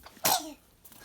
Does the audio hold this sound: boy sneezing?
yes